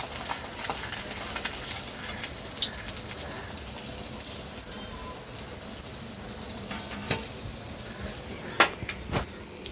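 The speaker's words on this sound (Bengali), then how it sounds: "হালকা করে একটু ভেজে নেব" Parshe fish shallow-frying lightly in oil for a mustard-poppy curry, a steady soft sizzle with scattered crackles and a few sharper pops near the end, close and moderately quiet.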